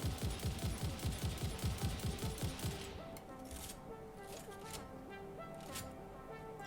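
A rifle fires a fast regular burst of sharp shots in the Satisfactory game, loud and rhythmic for about three seconds before giving way to quieter ambient clicks and tones.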